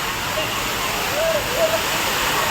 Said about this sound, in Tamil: திருப்பூர் பஞ்சலிங்க அருவியில் வெள்ளப்பெருக்கு ஏற்பட்டிருக்கிறது